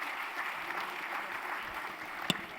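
An audience at a Parmarth Seva Samiti honour ceremony applauds with a steady, moderately distant patter of clapping, one sharp louder clap standing out near the end.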